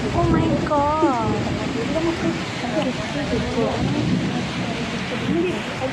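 Heavy rain pours steadily with low rumbling thunder beneath, a dense continuous wash heard under people talking and exclaiming throughout.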